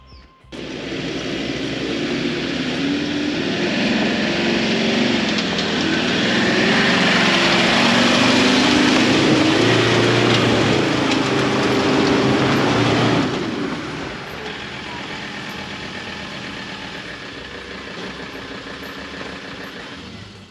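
A vehicle with a winch on the front climbs a hill on a newly made road, its engine a loud, close, sustained roar that strains harder midway, then eases to a steadier lower drone. Nobody speaks.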